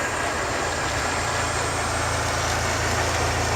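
Nissan 200SX S12 with a turbocharged VG30ET V6 cruising gently down a residential street, a steady low engine drone with road and wind noise at an even level throughout, no talking.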